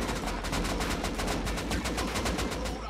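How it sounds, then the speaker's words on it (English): Rapid machine gun fire in the survival game Rust, a steady, evenly spaced burst of loud close shots running without pause for the whole stretch. "Donga's on the machine gun spree."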